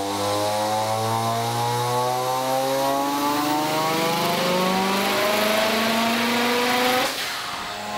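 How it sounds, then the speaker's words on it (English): A rotary-engine Corvette running on a dyno, its engine revving in a long, steady climb from a low drone to a high, buzzing wail before cutting back sharply, loud and close with no voices. "I am dynoing the rotary Corvette behind me myself."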